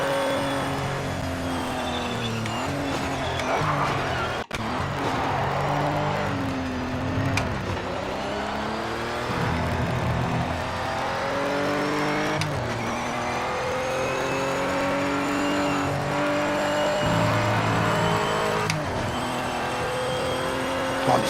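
Race car engine in the Project Motor Racing sim, heard up close as a loud, continuous howl that climbs and drops with gear shifts throughout, with no talking.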